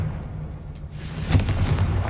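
A Confringo fire spell bursts in Hogwarts Legacy, landing as a low rumbling boom about midway through, with a muffled rolling blast that lingers over a steady low background hum.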